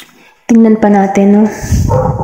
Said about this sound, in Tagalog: pasensya na sa tahol ng aso.